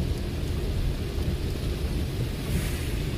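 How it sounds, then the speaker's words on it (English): Steady rain falls in Port Antonio, Jamaica, a dense continuous hiss and patter that holds evenly at a close, fairly loud level from start to finish, with no voices over it. "I'm in Port Antonio rain a fall."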